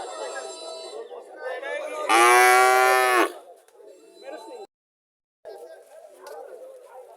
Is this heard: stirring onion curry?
no